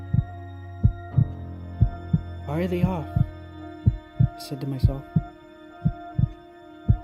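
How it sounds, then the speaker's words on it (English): A slow, steady heartbeat sound effect thuds in a regular rhythm through a quiet, dark night scene, each deep beat clear and close while a person speaks over it and a low hum lingers beneath. "with only the sound of my heart beating as I began to put my earbuds away."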